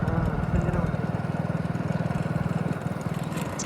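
A motorcycle carrying two riders on an evening road ride gives a steady, close, throbbing engine drone with a fast, even pulse throughout.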